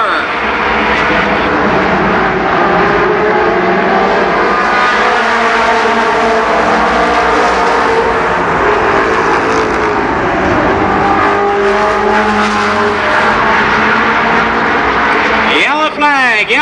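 Big rig race trucks roaring around Columbus Motor Speedway, a loud continuous blend of heavy engines passing and revving, with an announcer talking over the din.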